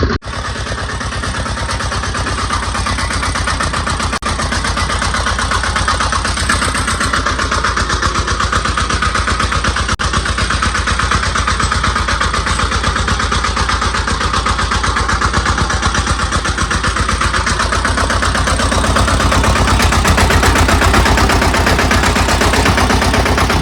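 A sanedo farm vehicle's engine runs steadily and loudly on a village farm, a continuous dense mechanical drone that holds at the same level throughout with no pauses.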